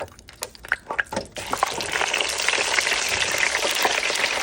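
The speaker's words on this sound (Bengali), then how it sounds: "ডিপ ফ্রাইয়ের একটা সুবিধা, আপনি অল্প অল্প করে দরকার নেই, একবারে অনেকগুলো ভেজে নিতে পারেন।" Food deep-fries in hot oil, cooked in one large batch: a few sharp taps and clinks, then a loud, continuous, crackling sizzle close by.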